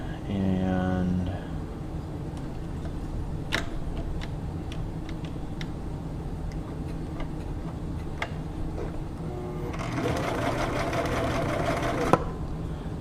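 A Viking 6360 sewing machine runs a straight stitch and zigzag test, its steady mechanical ticking continuing close and moderately loud throughout, with a brighter, busier burst near the end.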